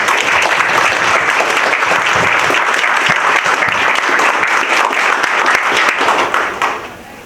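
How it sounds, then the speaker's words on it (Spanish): A room full of people at an academic forum applauds steadily, dense clapping sustained for several seconds before tapering off at the end. "Les pido por favor un aplauso para ellos."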